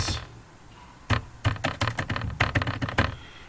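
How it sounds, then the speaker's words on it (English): Keys clatter on a computer keyboard as text is entered into a business card design, quiet at first, then bursts of rapid, uneven taps close by, with short pauses between runs. "Then you can now start typing."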